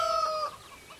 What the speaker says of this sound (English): Chickens are behind the shed here.